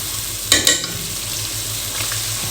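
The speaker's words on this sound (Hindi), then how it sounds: "इनको अच्छे से आपने मिक्स कर देना है ताकि तमाम स्पाइसेस आपस में वेल कंबाइंड हो जाएं" Spices sizzle in a puree for desi chicken karahi while a spoon stirs them, a steady frying hiss broken by a sharp scrape near the start and softer stirring later.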